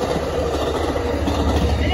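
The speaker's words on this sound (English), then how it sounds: "now approaching West 8th Street is Amtrak" Amtrak Capitol Corridor passenger train with an F59PHI locomotive and cab car passing near West 8th Street, a loud steady rail roar with rumbling wheels across the whole short span.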